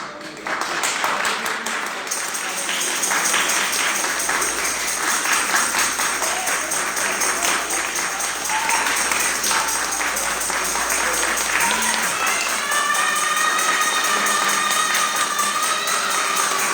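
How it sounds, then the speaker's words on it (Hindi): Steady applause from a church congregation at a Methodist regional conference, dense and unbroken throughout, with some faint tonal sounds rising near the end. "जोरदार तालियों के साथ"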